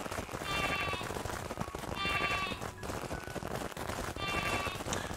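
Sheep in the video game Craftopia bleat three times at a steady interval, each call wavering and fairly close, over a constant background of game ambience.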